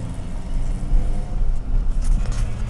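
A car driving on the ride home from Walmart gives a steady low rumble of engine and road noise inside the cabin, constant and fairly loud, with no talking.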